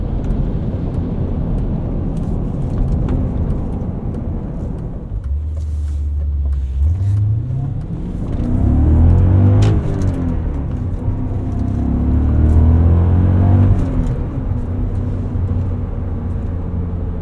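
A 2000 BMW M5 E39 with its V8 pulling hard, a steady, muted engine drone rising and falling in pitch through gear changes, heard from inside the cabin.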